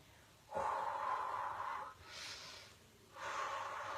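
Heavy, forceful breathing during an ab workout, with three loud, close exhales or gasps in steady succession and no talking.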